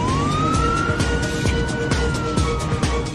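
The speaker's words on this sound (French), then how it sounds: "9 camions de pompiers viennent de toute urgence se poster sur une des pistes de l'aéroport." Several fire trucks' sirens at an airport runway during an emergency landing, a loud rising and sustained wail over dense traffic and engine rumble, continuous throughout.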